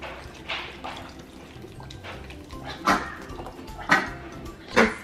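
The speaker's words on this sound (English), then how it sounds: "we're just gonna add all the sauce to the pan" Tinga sauce being poured into a pan on a stove at medium heat, giving several wet splashing glugs that grow louder toward the end over a low kitchen background.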